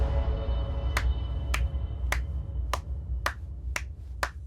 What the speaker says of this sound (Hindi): तालियां बजाओ बे।